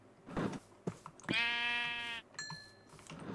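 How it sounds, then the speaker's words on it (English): A Minecraft sheep lets out one clear, close bleat in the middle, set between soft thumps and a short chime. "Another sheep! Another sheep!"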